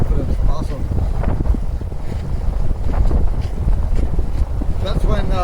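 Wind roaring across a sailboat running under full sail at about 40 degrees to a 13-knot breeze, a loud, steady rush and buffeting against the microphone with water noise beneath and muffled voices.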